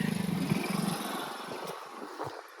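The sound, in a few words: motorcycle riding through a crop field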